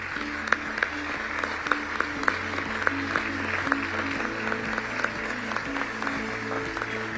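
Conference audience in Mombasa applauding visiting ministers at the 11th Our Ocean Conference, steady clapping with sharp individual claps over a low hum and background murmur.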